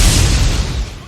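A short, loud synthetic blast with a booming burst of noise that fades over about a second, the Eclipse Rocket attack effect from the video game Manamon 2.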